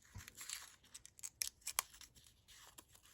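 Paper is folded underneath and creased to form a small handmade envelope, giving quick close crinkles, rustles and sharp crisp snaps in an irregular series with no talking.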